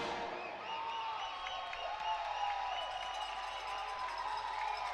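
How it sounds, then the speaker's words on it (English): A home crowd at a college basketball game cheers and shouts in a sustained, dense roar of many voices, steady and fairly loud, with whoops rising over the din. "pretty good home crowd, very excited about what's going on"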